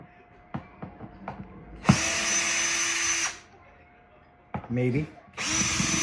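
A power drill backing screws out of the shipping crate of a fiber laser engraver, heard up close in a few bursts of whirring separated by clicks and handling noise, with a brief spoken word.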